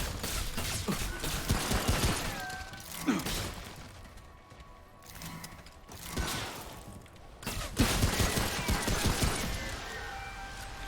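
Gunfire in the game Remnant: From the Ashes, dense rattling shots and mechanical clatter in bursts separated by brief quieter gaps.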